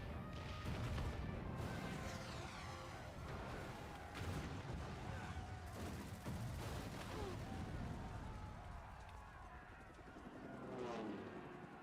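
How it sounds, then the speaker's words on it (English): Rapid Gatling cannon fire in a Final Fantasy XIV battle, a dense, sustained roar of gunfire and impacts running through the whole stretch amid crashing battle noise. "Are those Gatling cannons?"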